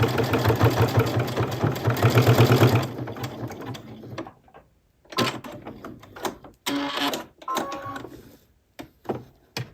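A sewing machine runs in a fast, steady whir while back stitching a thick quilted potholder, then stops, followed by several short bursts of stitching separated by quiet gaps.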